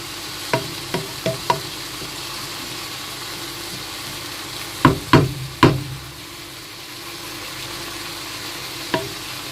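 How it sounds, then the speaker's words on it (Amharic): Minced meat, liver and tripe being stirred in a pan, a spoon or spatula knocking and scraping in scattered sharp strikes, some in quick clusters, over a faint sizzle, close and alone. "ስጋውንና ጨጓራውን እንደዚህ ቀልቀል አድርገዋለሁ በደንብ አድርጌ።"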